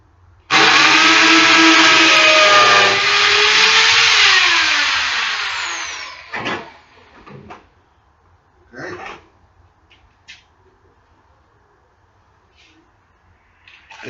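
A power drill or driver whirs steadily for several seconds as it screws down a stretched greenhouse panel, then winds down, followed by a few scattered knocks and rustles.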